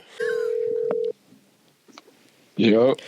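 Telephone keypad tones and a steady dial-style tone open a podcast phone call, followed by a brief burst of a voice or ringing near the end; loud and clear with quiet gaps between.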